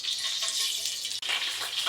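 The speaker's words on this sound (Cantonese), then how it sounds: "放啲油煮煎熟佢。" Live crayfish frying in hot oil in a home kitchen, giving a loud, continuous crackling sizzle that stays close and steady throughout.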